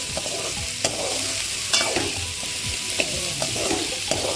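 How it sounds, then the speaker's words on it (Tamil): Radish and onion sauté in a pan, a steady close sizzle running throughout with repeated scraping strokes of a spatula stirring the mixture, no voices present. "பார்த்தீங்கன்னா முள்ளங்கி வெங்காயம் இந்த அளவுக்கு வதங்கிருச்சு."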